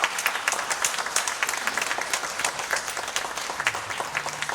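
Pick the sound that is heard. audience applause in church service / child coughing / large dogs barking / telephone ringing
audience applause in church service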